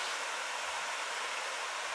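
Water pours down a waterfall near Uzès, a dense, even rushing hiss that stays steady and fairly faint throughout, with no other sounds.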